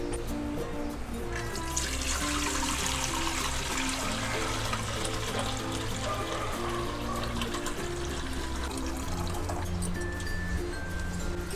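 Soaking water drains and trickles off sprouted bajra millet, a continuous pouring and dribbling flow with splashing that persists steadily.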